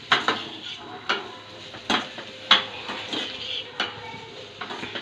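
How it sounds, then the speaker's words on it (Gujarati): A utensil stirs white sauce pasta in a pan over low gas, giving regular clinks and scrapes against the metal roughly once a second, close and moderately loud over a faint background hum. "ધીમા ધીમા ગેસે આપણે હલાવશું."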